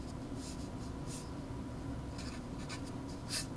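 Chalk or marker on a board during a multivariable calculus lecture, a few quiet scratchy strokes in short bursts over a soft room hum, with no talking.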